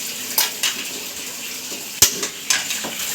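Pieces of pork liempo drop into a pot of boiling water with a brief splash and clatter, set among bubbling and light kitchen clinks of utensils and pans.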